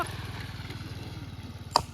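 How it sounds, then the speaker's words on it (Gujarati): An Activa scooter engine idles steadily at close range, a rapid even putter throughout, with one brief clack near the end. "આપણે એક્ટિવા આવી ગયો અને આ તમે એક્ટિવા ચાલુ રાખો"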